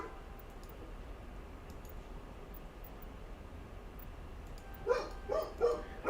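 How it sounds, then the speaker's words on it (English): Three quick, mid-distance dog barks in Mass Effect Legendary Edition, sounding near the end over a steady low background hum. "Those dogs are going psychotic."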